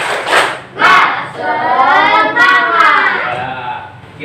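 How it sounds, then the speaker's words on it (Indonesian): An Indonesian classroom of pupils performs the tepuk semangat spirit clap, with loud rhythmic clapping and a burst of children chanting together, then a sustained group call that rises and falls over about four seconds. "tepuk semangat"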